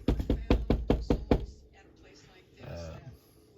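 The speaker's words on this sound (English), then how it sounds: "knock on wood" Knocking on a wooden surface, about six loud, sharp raps in a quick even rhythm, close by, followed by a short stretch of quieter room sound and a brief voice.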